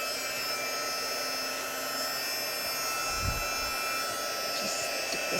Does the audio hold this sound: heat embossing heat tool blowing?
yes